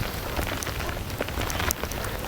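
Steady rain patters on a parked new car outside in Canada, a dense close hiss of drops with scattered brighter taps, continuous and with no voices.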